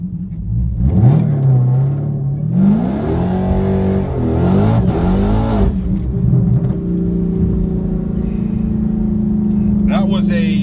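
A 2019 Dodge Challenger Scat Pack launching hard on Nitto NT555R tires with wheelspin, the engine roaring loud and close as revs climb and shift, then settling to a steady drone, with a voice speaking over it.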